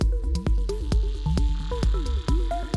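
A wet techno texture rack in Ableton Live plays a looping pattern of sharp, clicky percussive hits over squelchy, dripping, pitch-bending blips and a low sustained hum, loud and close, with no talk.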